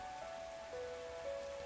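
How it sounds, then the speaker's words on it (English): Heavy rain pelts rooftops in The Hundred Line: Last Defense Academy, a faint, even wash of patter under a thin sustained musical tone. "Oh, and it's raining, too. It's really coming down hard."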